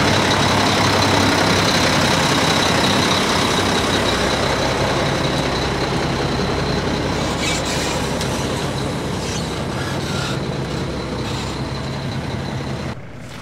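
Forklift engine running steadily and loudly throughout, a continuous broadband rumble with a constant low hum, close by, with no talking, easing slightly toward the end.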